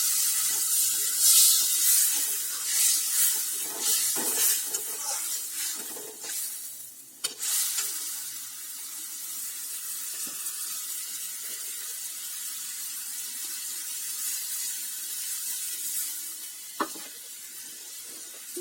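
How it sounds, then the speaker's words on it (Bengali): Water pours into a pan of plantain, potato and hilsa fish curry, a bright hissing splash that settles into a steady sizzling simmer with a couple of sharp clinks from a utensil. "এবার আমি এর মধ্যে দিয়ে দিচ্ছি জল।"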